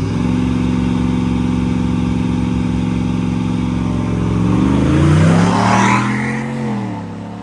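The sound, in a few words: Fox body Mustang and other cars racing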